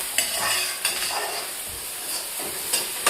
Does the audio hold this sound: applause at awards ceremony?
no